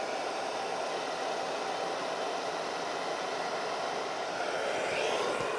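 A heat gun blows steadily while post-heating vinyl wrap on Tesla chrome trim, a continuous close airy hiss and whir with no breaks and no talk.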